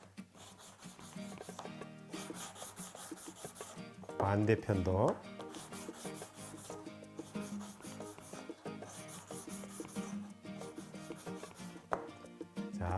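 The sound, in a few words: sanding wooden board edge with sandpaper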